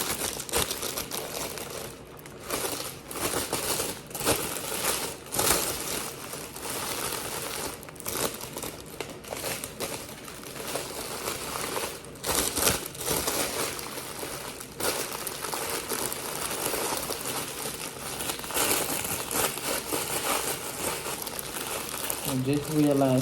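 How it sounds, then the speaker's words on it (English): Cellophane wrap crinkles and crackles around a small handmade holiday gift basket, a dense close rustling that runs throughout in irregular bursts, with someone talking now and then. "when I'm making smaller gifts like this, I always use my cellophane wrap."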